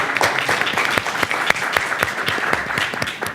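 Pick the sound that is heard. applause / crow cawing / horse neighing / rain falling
applause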